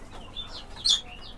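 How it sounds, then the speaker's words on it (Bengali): Chicken chicks peep in a few short, high, thin chirps at close range in a poultry and pigeon enclosure, over a faint background hiss. "মুরগির বাচ্চাগুলো"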